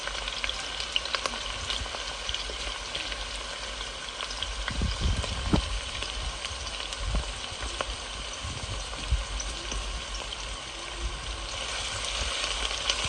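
Garlic joins onions frying in a pan, a constant bright sizzle with scattered pops and a few soft stirring knocks, close up and without voices.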